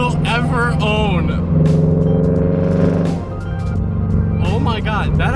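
A Subaru BRZ with an aftermarket JDL unequal-length header, front pipe and Tomei exhaust revs loudly from inside the cabin, a raspy boxer engine rising and falling while excited voices talk over it.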